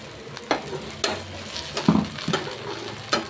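Dosa batter hisses and sizzles on a hot pan, with a few sharp scraping and tapping sounds from a utensil breaking through the steady crackle.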